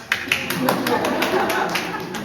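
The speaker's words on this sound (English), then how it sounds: "Can we clap hands for ma'am?" An audience in a teacher training session claps for a singer, a quick run of bright, evenly spaced hand claps with a voice talking over them.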